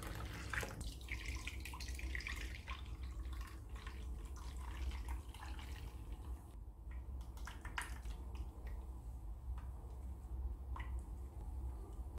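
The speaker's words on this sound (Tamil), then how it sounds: "தண்ணி கலந்துட்டு வடிகட்டலாம்." Water mixed into curd and strained through a filter into a clay pot, a soft, continuous trickle and slosh with small splashes and squishy stirring, faint and close, with no voices.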